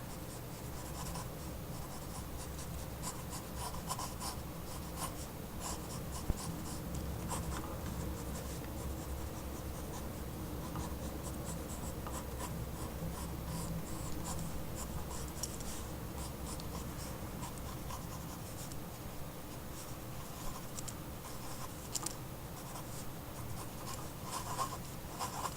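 A pencil scratches and strokes steadily across paper while sketching a manga-style hand, a continuous close scribbling with short, rapid strokes and no talking.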